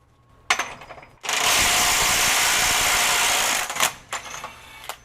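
A Metabo SSW 18 LTX 800 BL cordless half-inch mid-torque impact wrench running in auto mode, giving a few short clicks and then a loud sustained hammering burst of about two seconds, followed by brief spinning bursts as it slows, close up.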